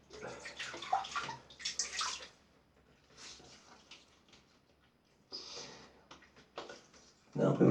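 Tap water running and splashing in a bathroom sink while rinsing the face during a wet shave, in intermittent bursts with quiet gaps between.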